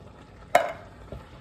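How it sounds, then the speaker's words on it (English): Chopped tomatoes being stirred into a frying chicken curry: one sharp scrape of a spoon in the pan followed by a softer second stir, over a faint sizzle, with no voices. "Give them a good mix in. Get them mixed in well."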